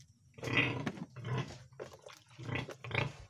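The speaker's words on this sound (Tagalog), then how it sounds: "Ngayon po guys ay gutom na po yung ating" A hungry domestic pig, a first-time pregnant sow about 100 days along, grunts and snorts close by in four rough, loud bursts separated by short pauses.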